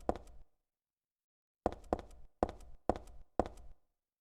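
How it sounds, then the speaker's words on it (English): A door in the Silent Hill 3 video game gives one heavy thud, then after a pause five evenly spaced knocking thumps, each dry and close, with silence between. "And right now what I want is to go through this door."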